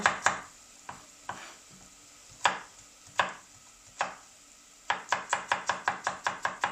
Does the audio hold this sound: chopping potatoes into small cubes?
yes